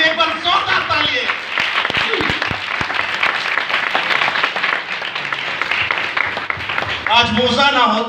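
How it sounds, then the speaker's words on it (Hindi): A church congregation breaks into loud applause during a sermon, a dense burst of clapping with a few sharp individual claps, while a preacher's voice continues over it. "मूसा की मेहनत के लिए एक बार जोरदार तालियां।"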